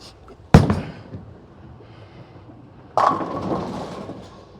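A bowling ball strikes the pins with a sharp, loud crash near the start, then rolling rumble, and a second burst of pin clatter and crowd-alley noise follows later, no speech.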